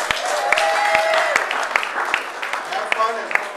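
Audience applause at a theater company's anniversary gala ball, a sustained wash of clapping with sharp individual claps and some mixed voices over it.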